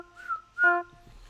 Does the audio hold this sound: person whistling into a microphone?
yes